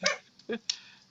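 Several short dog barks and yips in quick succession, close by, with a voice mixed in among them.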